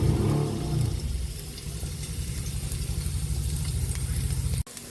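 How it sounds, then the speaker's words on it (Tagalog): Garlic sautés in hot cooking oil for ginisang sayote, giving a continuous bright sizzle over a low, rumbling hum. It runs steadily until a sudden brief cutoff near the end, with no talking. "Magigisa na po tayo para sa ating ginisang sayote. Mantika. Lagyan na rin natin yung bawang."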